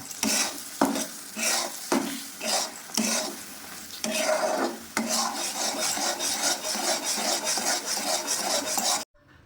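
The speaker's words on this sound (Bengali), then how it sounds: "এর মধ্যে আমি এক টেবিল চামচ ঘি দিলাম দিয়ে নেড়ে দিলাম" Ghee is stirred into thickened milk kheer in a pot with a steady, close, rasping scrape and soft sizzle that goes on nearly without pause, then cuts off abruptly at the end.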